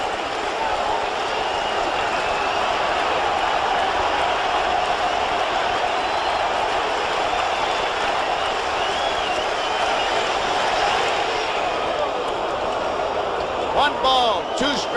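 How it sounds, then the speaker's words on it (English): A crowd at the 1981 MLB All-Star Game in Cleveland roars steadily for hometown pitcher Len Barker with two strikes on the batter, a dense, sustained wash of cheering that holds for fifteen seconds. "the crowd is really reacting to their hometowner, Len Barker. Listen to him."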